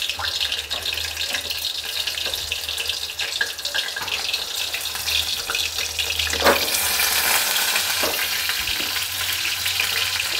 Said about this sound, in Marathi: तेल तापलंय आपलं, आता वांगी करून घ्या